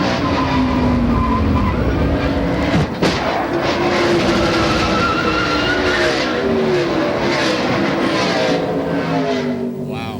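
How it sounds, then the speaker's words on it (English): A NASCAR stock car at the 1997 Southern 500 slides across the track into the wall during a crash, heard from on board as a loud, steady engine roar with sustained tire skidding and squealing. "just watch how quickly that car slid across the track and hit the inside range"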